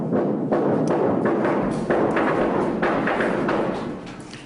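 Explosives detonate in an underground silver mine, heard as a dense, loud rumbling roar with a series of repeated thuds and bursts over several seconds, heard from a distance.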